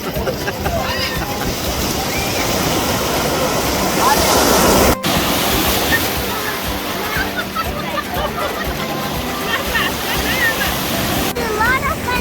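Ocean surf at Bethany Beach rolls in as a steady, loud wash of waves, with breaking surges and a brief drop near the middle, and faint voices may be mixed in.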